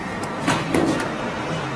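A heavy industrial aging oven door being pushed shut, a short muffled thud with a soft rumble, then a second clunk as it seats, all close and fairly quiet against a steady low hum.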